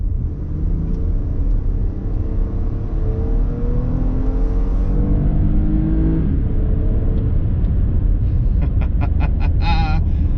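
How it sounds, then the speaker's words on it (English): A 2022 Toyota Highlander AWD V6 revving hard under acceleration, the engine note climbing steadily through the gears over a dense rumble, loud and close from inside the cabin. "Oh, I'm gonna miss this V6. That thing sounds so beautiful when you rev it all the way out."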